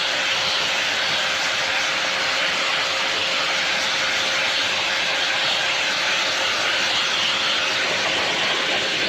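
A Pecute high-velocity dog hair dryer runs at maximum speed, giving a loud, steady, jet-like roar with a faint whine held throughout, close and unbroken, with no talk.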